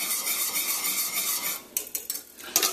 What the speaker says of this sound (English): Next up, we're just going to add it into the simmering cream that we have on the stove here.